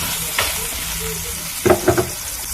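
Bread toasting in margarine in a frying pan gives a steady low sizzle, with a few sharper scraping or turning noises near the end and no voices.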